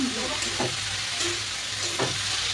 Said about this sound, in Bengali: গ্যাস পুরো হাই আঁচে করে দিয়েছি, ভালো ভালো করে একটু ভাজা হয়ে যাক।